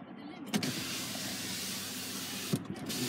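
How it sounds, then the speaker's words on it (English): The power sliding rear window of a 2014 GMC Sierra truck runs with a soft, steady electric motor whir inside the cab, framed by faint clicks as it starts and stops. "We also have power slider in the back."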